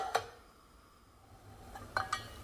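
Metal lid set onto a pot of water with garlic on the stove, a few sharp clinks and taps, one near the start and a small cluster near the end, against quiet background.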